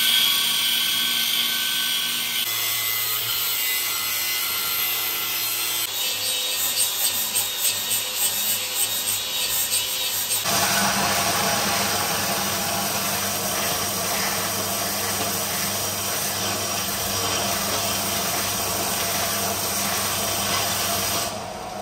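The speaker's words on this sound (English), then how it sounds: "So let's get the grinder out." A grinder works on a cast iron Holden V8 exhaust manifold, a loud continuous whine and grinding rasp that shifts in tone several times as the disc bites and eases off the metal.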